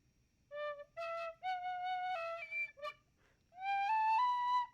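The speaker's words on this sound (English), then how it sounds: "They're like the Irish penny whistles." An Irish penny whistle plays a few held, clear notes in a short halting phrase during a pre-show warm-up, with a brief pause before a longer rising passage.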